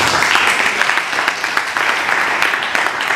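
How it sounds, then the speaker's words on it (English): Spectators at the Indonesia Winner dog show applaud steadily and fairly loud, a continuous crowd patter of clapping hands with no voice on top. "give him a round of applause"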